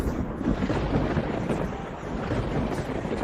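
Cartoon lightning crackles from Stormbreaker, Thor's axe, as a dense, continuous roaring rumble that stays loud and unbroken throughout, with no talking.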